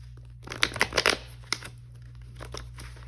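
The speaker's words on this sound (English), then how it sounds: "All right, let me shuffle again." Tarot cards being shuffled by hand, a quick flurry of riffling slaps and crisp flutters followed by a few scattered, softer card taps in a quiet room.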